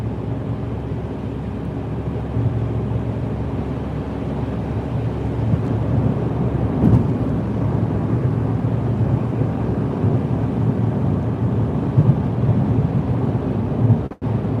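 Steady roar of a winter snowstorm heard from inside a car driving through Toronto, a constant low wind-and-road rumble that fills the whole stretch with no voices, ending in a brief thump.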